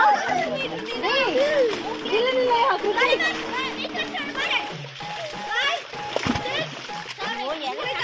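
Water splashing as people swim in a forest stream at Thengumarahada forest during a Pongal outing, with steady splashes throughout and children's excited voices chattering over them.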